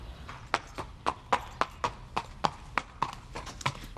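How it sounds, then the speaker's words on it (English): Horse hooves clip-clop in a steady, fairly close rhythm, about a dozen sharp knocks over a few seconds, with a faint low rumble underneath. "It's a horse."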